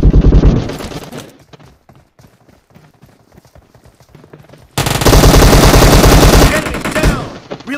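Rapid automatic gunfire from the battle-royale video game PUBG, loud dense bursts at the start and again in the second half, with quieter scattered shots and faint game sounds between them.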